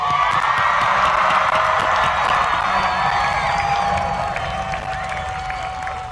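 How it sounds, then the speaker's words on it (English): A crowd at a 2021 high school graduation ceremony claps and cheers loudly, a thick sustained roar of applause with whoops and a thin whistle-like tone, tapering slightly toward the end. "Can I get another round of applause?"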